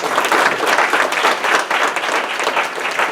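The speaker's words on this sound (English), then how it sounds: "you give him a big round of applause" An audience at a local business community event gives a steady round of applause, dense overlapping clapping that stays loud and even throughout with no voices over it.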